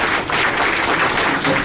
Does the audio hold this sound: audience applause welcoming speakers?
yes